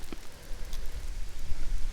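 Steady rain patters on leaves in a forest, an even close hiss with scattered drop hits and no voices.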